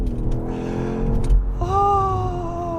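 A 2024 BMW X5 M Competition launches hard: its engine note climbs steadily at close range, breaks off briefly for a gear shift, then surges again in a loud, rising roar.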